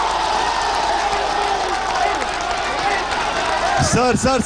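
A packed crowd at a public political question session in Azamgarh claps and cheers in a dense, sustained roar of noise, with a voice cutting in over it near the end.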